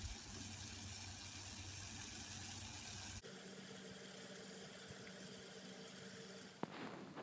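Ginger in a pot of water simmering on low heat gives a steady, soft bubbling hiss that runs throughout, with a faint click near the end and no talking.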